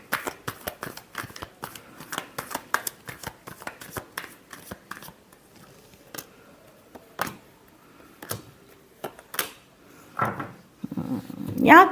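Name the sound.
shuffling tarot cards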